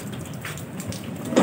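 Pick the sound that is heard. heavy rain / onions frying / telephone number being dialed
heavy rain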